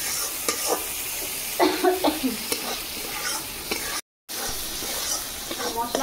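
Spice paste frying in a pan with a splash of water, a close hiss and crackle with repeated scraping stirs and a brief dropout midway, no talk.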